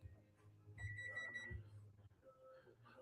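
Microwave oven beeping in a room, a few short high electronic beeps in a quick cluster, faint beneath low background hum and a bit of voice.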